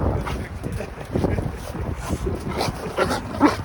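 A dog barks and whines in bursts outdoors during a snowstorm, with steady wind noise rushing over the microphone and a person's voice faintly underneath.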